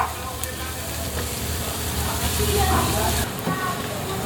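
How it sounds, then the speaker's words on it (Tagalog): Chopped garlic sizzles steadily in oil in a frying pan as it browns, a constant crackling hiss with small pops, while a voice talks over it. "i-brown natin yung bawang para lumabas yung lasa niya"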